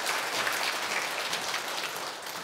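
A crowd claps steadily in dense, sustained applause at a lecture event, a bright crackling wash of many hands with no voices.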